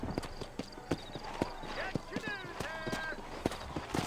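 Steady clip-clop of horse hooves on a trail while riding in Red Dead Redemption, a regular rhythmic beat close up, with a voice talking over it.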